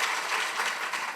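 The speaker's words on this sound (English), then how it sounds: "Let's give another round of applause for Ashley." Brief burst of applause from an audience at the 2021 Matrix Awards ceremony, a steady wash of clapping that fills the whole moment at moderate level.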